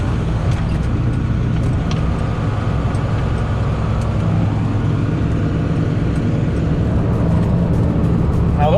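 A John Deere 4640 tractor driving across a field while raking wet hay, its engine a loud, continuous low rumble from the cab with a rough, rattling ride, steady throughout.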